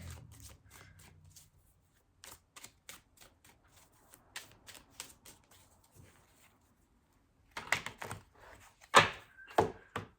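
Tarot cards shuffled and drawn by hand, giving soft repeated riffling and flicking clicks, with a few sharper card snaps near the end; no talk.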